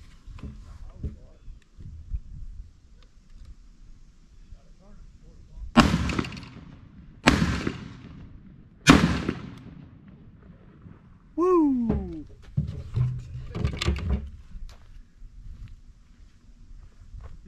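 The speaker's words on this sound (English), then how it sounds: "Let's put some rounds through this thing and see exactly what it does" Three loud, sharp rifle shots fired without a compensator or muzzle device, evenly spaced about a second and a half apart, followed by a short voice and scattered movement noises.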